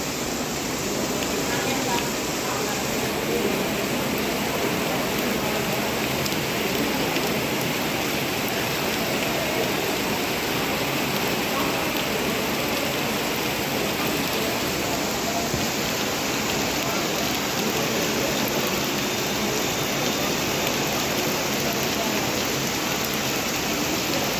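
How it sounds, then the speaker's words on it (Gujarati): Heavy rain pours down on Bagasara town in Gujarat in a dense, unbroken roar, steady and loud throughout. "બગસરા શહેરમાં અત્યારે ધોધમાર વરસાદ પડી રહ્યો છે"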